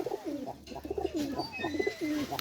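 High-flyer pigeons kept in a rooftop loft coo in soft, repeated rolling phrases, close by, with faint chirps in the background.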